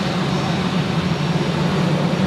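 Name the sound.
airplane departing from Zurich Airport runway 28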